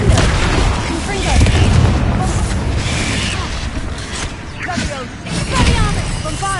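Confringo fire spell blasts going off in a Hogwarts Legacy battle, a string of loud booming bursts over dense game combat noise and music.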